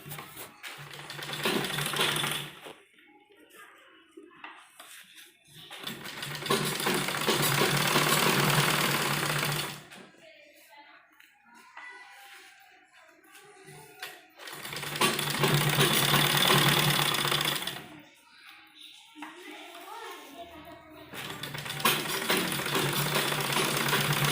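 A sewing machine stitches piping onto a sleeve in three long runs of fast, even needle clatter, separated by quiet gaps with faint handling sounds, close and moderately loud.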